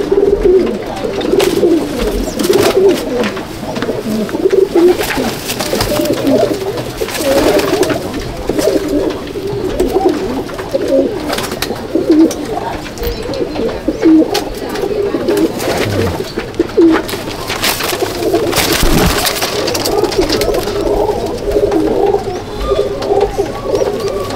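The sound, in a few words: Madras pigeons cooing in a loft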